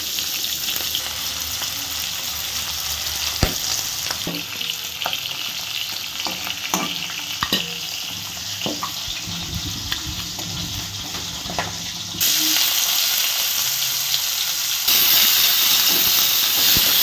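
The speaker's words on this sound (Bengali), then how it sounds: "সব পট পট পট পট করে ফাটতে লেগেছে।" Magur catfish fries in a pan of hot oil, hissing loudly and continuously while sharp pops and crackles burst out irregularly up close. Near the end the sizzle swells louder, with no talking over it.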